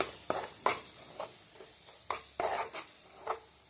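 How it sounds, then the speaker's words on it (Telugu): Tomato and chili powder are stirred in a cooking pan, with a series of close, irregular scraping and clinking strokes of the spoon against the metal over a faint sizzle. "కారం వేసుకుందాం, కలుపుకోండి."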